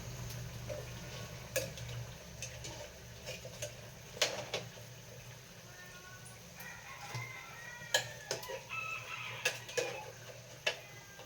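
Chickens cluck intermittently nearby with scattered sharp calls, over a low steady background hum; no clear crow stands out.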